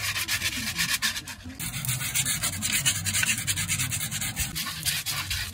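A trailer axle shaft is polished by hand, producing a steady, close rubbing and sanding scrub in quick repeated strokes throughout, with no talking.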